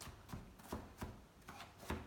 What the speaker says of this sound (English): So onions, chop them up in a sort of rough dice.